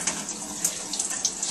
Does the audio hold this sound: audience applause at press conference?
no